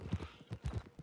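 Riderless horse trotting in the video game Red Dead Redemption 2, a quick run of soft hoof clops in an uneven pattern, close and fairly quiet.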